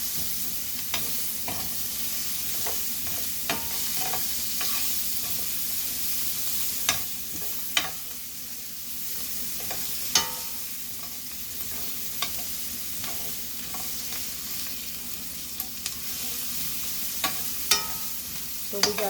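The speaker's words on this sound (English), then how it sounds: "So we got the garlic in here" Garlic frying in a pan with asparagus for Mongolian beef gives a steady, close sizzle that runs throughout, broken by sharp spatula clicks and scrapes at irregular intervals.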